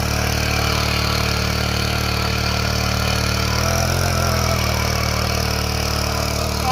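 A power weeder with a 4-stroke engine runs steadily nearby, a loud continuous mechanical drone with a slight change in pitch partway through.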